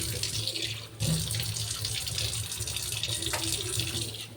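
Fish roe being rinsed under a running kitchen tap, a steady close stream of water splashing into a sink that continues throughout with no pauses.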